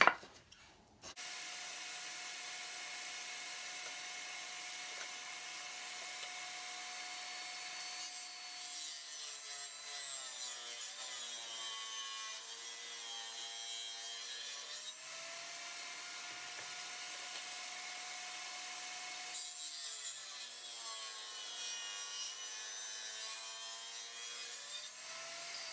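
A hand saw trimming a piece of wood in a workshop, a steady, close rasping stroke that holds continuously for about twenty-five seconds, its pitch shifting slightly as the cut progresses, with no talking.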